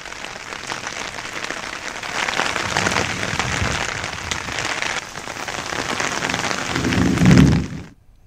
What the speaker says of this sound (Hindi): थोड़ी देर तक झमाझम बारिश हुई।